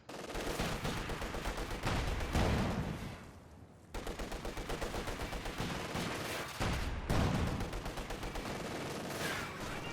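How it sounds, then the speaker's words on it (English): Machine gun fire from the Company of Heroes 2 strategy game, long sustained bursts of rapid gunfire broken by brief pauses, loud and dense, mixed with other battle noise. "Got a kill there with the machine gun"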